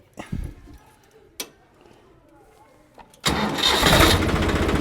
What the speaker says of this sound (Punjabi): ਆਪਣਾ ਸਵਰਾਜ ਹੋ ਗਿਆ ਸਟਾਰਟ